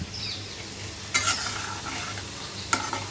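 Pitha rice cakes are frying in a pan, giving a soft, steady sizzle with two sharp clinks of a utensil stirring against the pan.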